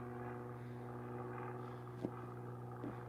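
A fixed-wing airplane, recently departed from a south runway, drones steadily overhead as a low, continuous engine hum with a couple of faint clicks nearby.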